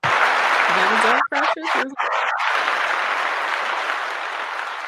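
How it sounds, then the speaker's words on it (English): Loud studio applause rolls on steadily while someone speaks briefly over it near the start, then the clapping carries on alone and slowly fades. "I just want to give sis a round of applause."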